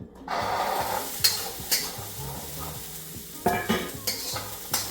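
Chickpeas toast in a hot pan with a low crackling sizzle, punctuated by several sharp scraping strokes of a spoon against the metal at a loose, uneven rhythm.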